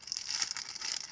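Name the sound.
plastic bag crinkling while unpacking figure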